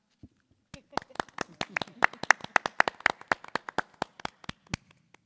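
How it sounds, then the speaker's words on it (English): A single person claps hands at a school committee meeting right after a unanimous vote passes, about twenty sharp, closely spaced claps in an irregular rhythm, near and distinct against a quiet room. "I'm going to clap."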